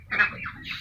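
Ducks on a farm flock of about three hundred birds give a few nasal quacks in quick succession, fairly close and clear against a quiet background.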